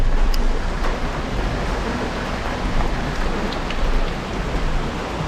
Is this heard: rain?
yes